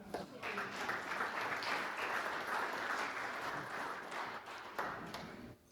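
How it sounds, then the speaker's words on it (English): A round of applause from attendees at a village meeting, steady mid-distance clapping from a modest crowd that holds for several seconds before tapering off. "One more round of applause for everybody who showed up tonight"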